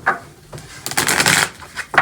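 Tarot cards being shuffled in short bursts, a quick riffle then a longer flurry of papery flicks, close by with no talking.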